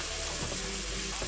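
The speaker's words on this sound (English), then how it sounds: "Throw your onions in. Just saute that a little bit" Onions sizzle and fry in a pan as they soften for a Turkish-style lentil soup, a steady, close crackling hiss with soft stirring, no voices.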